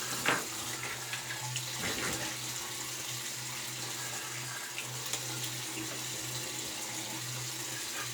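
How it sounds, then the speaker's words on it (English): Tap water runs steadily into a sink for a face rinse after a shave, a constant close splashing hiss with a few brief splashes of hands in the stream. "Now we'll rinse."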